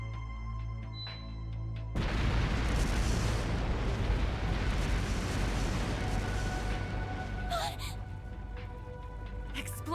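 Explosive artifacts detonating in the video game Trails through Daybreak, a sudden loud blast that swells into a sustained rumbling roar of explosions lasting several seconds, over a low musical drone.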